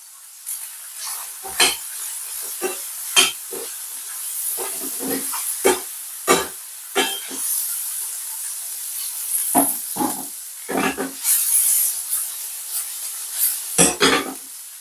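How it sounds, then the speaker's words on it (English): Tomato goes into a hot frying pan for Jamaican ackee and saltfish, giving a steady sizzling hiss broken by repeated scraping stirs and clatters of the utensil against the pan, close and loud with no talking. "At this point, I'm going to add my tomato in."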